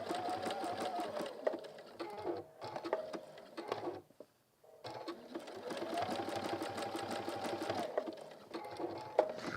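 A sewing machine runs in long continuous bursts while stitching a hemisphere pin cushion, its rapid mechanical chatter stopping briefly twice before starting up again, close and fairly loud.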